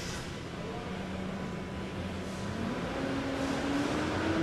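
A worn-out clunker car engine hums at a steady low pitch, then the tone climbs gradually as the revs rise near the end, heard up close with a faint background hiss.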